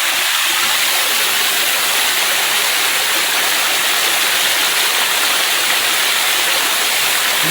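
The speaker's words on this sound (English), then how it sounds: "Look at that waterfall." A tall waterfall on a small seasonal stream roars as a loud, constant hiss of falling water, close and unbroken throughout.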